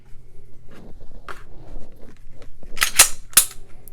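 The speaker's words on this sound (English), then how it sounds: "So let's remove the mag" Removing the magazine from an Arex Delta Gen2 pistol with a stainless steel slide: faint handling rustle, then a tight cluster of sharp, close mechanical clicks and a final clack.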